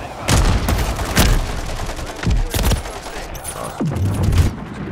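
Longbow sniper rifle shots in MW3, several sharp booming cracks spaced about a second apart, each followed by a short rumbling tail, with some game effects in between.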